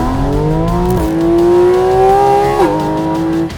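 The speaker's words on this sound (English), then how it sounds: "you get a pure, raw, surround sound induction sound of flat 6 symphony" A Porsche 718 GT4 RS flat-six engine revs loudly up close with a rich, smooth intake howl, rising and easing across two shifts before settling into a steady drone.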